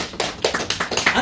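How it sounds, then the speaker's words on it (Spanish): A short burst of audience applause at a theater premiere, sparse and close, with individual claps standing out briefly. "¡Un aplauso!"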